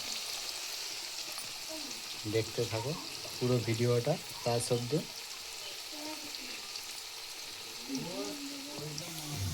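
Onions and garlic frying in a pan make a constant, moderate sizzle that runs beneath a person talking in several short phrases.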